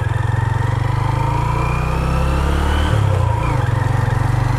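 A motorcycle engine hums steadily up close, with a brief shift in pitch partway through, while riding along a winding mountain road in the Salt Range near Chakwal, Pakistan.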